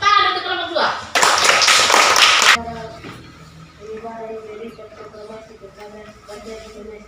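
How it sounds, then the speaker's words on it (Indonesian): Students in a sixth-grade classroom clap for a group, a short loud burst of clapping that cuts off abruptly, with children talking and a teacher speaking before and after. "Tepuk tangan untuk kelompok 2."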